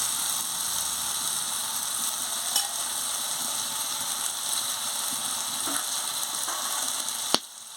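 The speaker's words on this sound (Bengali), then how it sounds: "ধনে পাতা দিয়ে একটু আবার নাড়িয়ে নিচ্ছি।" Cabbage curry with coriander leaves fries in a pan with a steady, close sizzle, the spoon scraping and stirring now and then, ending in a sharp clink.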